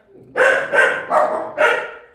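A dog barks four times in quick succession, loud and close, each bark short and sharp with brief gaps between.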